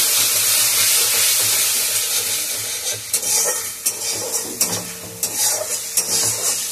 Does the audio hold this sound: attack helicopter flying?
no